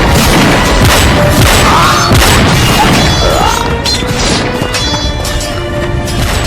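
A battle-scene sound effect of gunfire and explosions plays as a loud, dense wall of booms, crashes and rattling shots that continues without pause.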